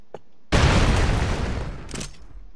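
A grenade blast in the video game Broforce erupts suddenly, a loud booming roar that decays over about two seconds, followed by a brief second crackling burst.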